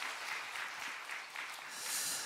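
A church audience claps to welcome a speaker at a family seminar, a short, even burst of applause from a moderate-sized crowd with no voices over it.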